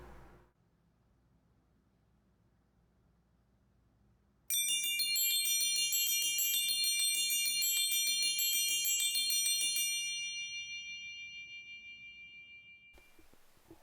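The chimes stop on a large church pipe organ at La Casa de Cristo Lutheran Church in Arizona plays a rapid series of bright bell strikes after a quiet start, then the ringing decays slowly to near silence.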